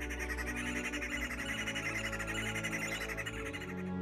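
Birds call continuously across the African savanna, layered squawks and chirps with a steady rich chorus under a constant low background.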